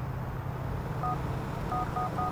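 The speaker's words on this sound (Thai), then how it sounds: "มิชชั่น แบ็กโทรหาโรแมน อีกรอบหนึ่งดูสิ" Telephone keypad tones from a mobile phone in Grand Theft Auto IV, a short series of clear dialing beeps over a low steady engine-like rumble.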